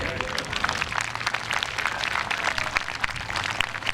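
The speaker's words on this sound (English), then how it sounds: "You guys can give them a round of applause." Scattered clapping from a crowd at a youth football camp, uneven and moderately distant, with some background murmur beneath it.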